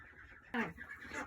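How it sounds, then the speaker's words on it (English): An adult duck lets out a single short, nasal quack, faint and close, over a quiet background. "So this is our adult duck, Blue, who I got from my parents, and she's"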